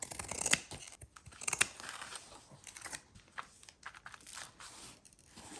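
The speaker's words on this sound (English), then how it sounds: "So I'm going to cut 2 strips of that. I'm going to use my pinking shears." Pinking shears snip through fabric strips in a few quick, close cuts, with faint paper and fabric rustling between the snips and no talking.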